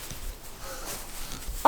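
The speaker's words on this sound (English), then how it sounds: "It's a really beautiful little chicken breed." A silkie chicken clucks close by, soft low murmurs ending in one sharper, louder cluck, with quiet background rustle.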